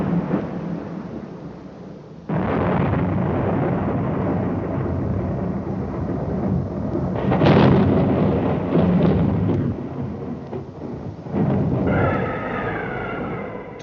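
Thunder from a major thunderstorm booms and rolls in long, heavy waves, loud and sustained with fresh surges partway through, heard alone without voices.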